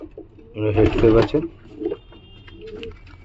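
Giribaz pigeons coo softly in a short burst close by, while someone talks over them throughout.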